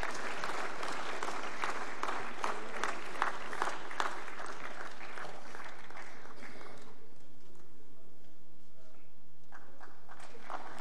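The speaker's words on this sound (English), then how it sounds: "Kindly keep the applause going as they join us on stage." Audience applause at an energy and environment awards ceremony, brisk and strong for several seconds, then fading out into quieter room sound with faint scattered claps.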